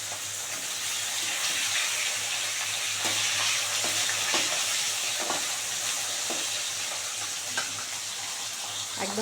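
Rohu fish pieces fry crisp in hot oil, giving a continuous dense sizzle and bubbling hiss with occasional soft clicks of a utensil against the pan, heard up close without speech.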